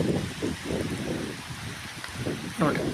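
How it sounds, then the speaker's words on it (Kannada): Heavy torrential rain pours down steadily in a dense, close hiss, with voices talking over it throughout. "ಇಲ್ಲಿ ಅಷ್ಟು ಜೋರು ರಭಸದಿಂದ ಮಳೆ ಬೀಳಾಕತ್ತೈತಿ ನೋಡ್ರಿ"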